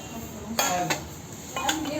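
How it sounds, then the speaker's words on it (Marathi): Aluminium cooking pots are handled, giving a few sharp metallic clanks and knocks spaced unevenly over a quiet kitchen background, close by and without any talking. "ही ॲल्युमिनियमची पातेली घेतली"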